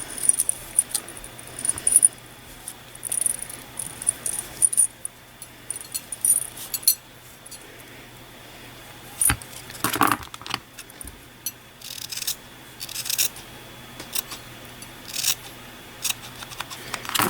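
Scissors snip through a yarn tassel in short, sharp bursts, several quick cuts clustered mid-clip against a quiet, faintly humming room.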